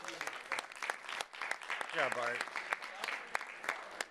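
Applause at Bart's event in Vegas, dense clapping throughout with a short spoken remark rising briefly over it.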